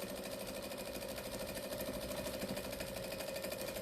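Steady mechanical whirring hum of a sewing machine running continuously at an even pace during free motion quilting, moderately quiet, with no voices.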